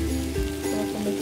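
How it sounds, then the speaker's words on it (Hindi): Chopped tomato cubes land in a hot pan of cooking mutton, setting off a steady, close crackling sizzle like rain on a surface over a faint low hum, with no talk. "अब मैं उसमें ऐड कर दूंगी टमाटर को भी"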